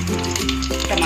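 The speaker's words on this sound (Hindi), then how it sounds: "देखिए तेल हमारा गर्म हो चुका है। अब सबसे पहले इसमें मैंने जीरा डाल दिया है।" Cumin seeds drop into hot oil while tempering a vegetable dish, a brief bright sizzle with a low background hum.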